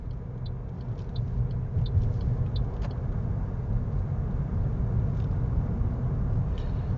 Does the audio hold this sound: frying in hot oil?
no